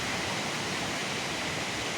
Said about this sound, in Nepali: यहाँ तल चाहिँ दुईटा खोलाको सङ्गम छ